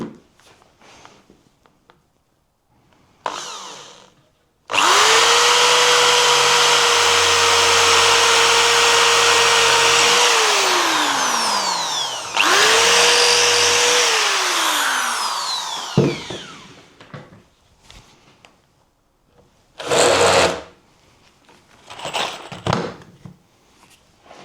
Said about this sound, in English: I'll just get in with the angle grinder and nip the ends off where they're protruding